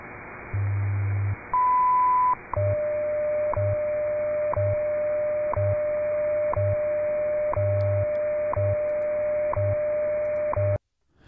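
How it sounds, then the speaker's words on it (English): WWV radio station time-signal broadcast over a ham receiver: a steady one-second tick pattern with short low pulses, a sustained higher tone, then a long continuous tone broken by regular ticks before cutting off. "that's what the um, WWV sounds like, their time signals"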